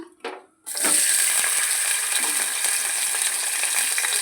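Sliced bitter gourd dropped into hot oil in a home kitchen pan, a brief clatter followed by a loud, steady, close hissing sizzle that continues unbroken with no talk.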